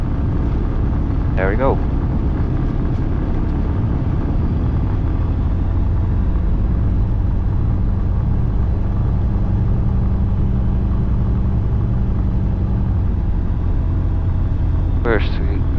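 Light training aircraft engine rumbles steadily at low pitch while taxiing in rain, heard from inside the cockpit under headset noise, with a brief spoken remark near the end.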